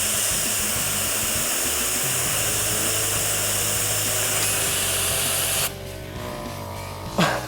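A LEGO Tesla turbine spins at maximum RPM with a loud, steady, high-pitched whirring hiss that cuts off abruptly near the end, leaving a quieter rush and a brief clunk.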